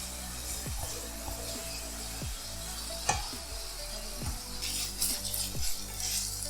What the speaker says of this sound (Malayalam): തക്കാളി ഒരു 4 to 5 minutes ഒന്ന് വഴറ്റിയെടുക്കണം.